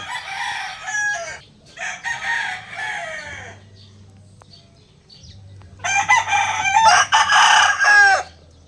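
Sweater gamefowl roosters and young stags in a backyard gamefarm crow loudly in two long bursts with clucking between, several birds close by, with a low steady hum underneath.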